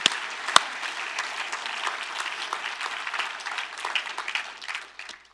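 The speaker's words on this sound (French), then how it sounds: "il faut continuer d'applaudir le Dieu" A church congregation claps together during a sermon, giving a steady, dense run of hand applause at moderate volume with scattered sharper claps, lasting the whole few seconds without talk.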